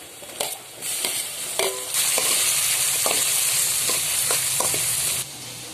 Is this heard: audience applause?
no